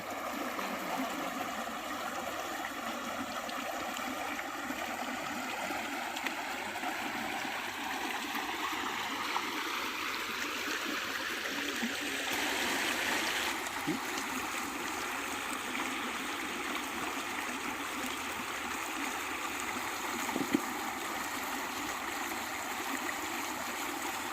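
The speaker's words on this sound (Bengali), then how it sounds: "জলটা দেখো খুব ফোর্সে এখন পার হচ্ছে" River water rushing forcefully over rocks in a hilly camping area, a steady loud roar of flowing stream close by with gurgling, continuous throughout without talk.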